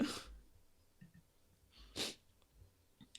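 A person sneezes sharply at the start, then sneezes again about two seconds later, with soft sniffs and breathing in between, all quiet and close.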